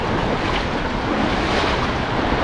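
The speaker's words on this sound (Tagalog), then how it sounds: "Lumakas lang agos." Strong river current rushing at a dam, a dense, steady roar of churning water with wind buffeting the microphone, loud and unbroken throughout.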